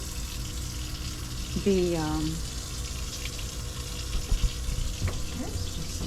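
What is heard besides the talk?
boat faucet running while emptying the water tank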